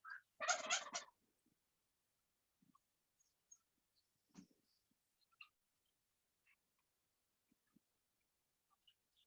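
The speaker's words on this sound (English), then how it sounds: "every time that the turkey gobbles" A wild turkey gobbles once, loud and fairly close, in a single burst near the start, then only a few faint scattered chirps and ticks across an otherwise quiet outdoor stretch.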